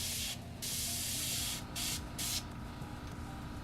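An airbrush sprays paint onto a model, giving a loud steady hiss that cuts out in short pauses as the trigger is released and pressed again.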